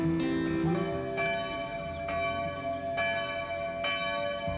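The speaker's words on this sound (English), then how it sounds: "Ah, the church bells." Church bells ring out in a steady, resonant sequence of strikes, their tones overlapping and lingering, with no voices present.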